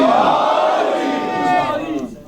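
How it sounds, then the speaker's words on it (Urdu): A large gathering at a Shab-e-21st Ramzan religious assembly roars the Naara-e-Haidari slogan in unison, one loud, sustained chant up close that fades at the end. "پوری قوت کے ساتھ دونوں بازو بلند کر کے نعرے حیدری"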